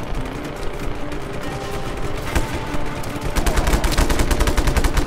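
Loud, close gunfire in the video game Just Cause 3, dense bursts of rapid automatic shots that build into a sustained barrage, with no talking.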